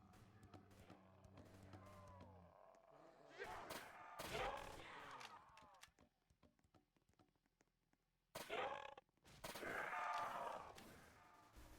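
Gunfire from a weapon in the Roblox zombie shooter Project Lazarus: scattered bursts of rapid shots separated by quiet gaps, fairly faint overall, with a few grunts mixed in.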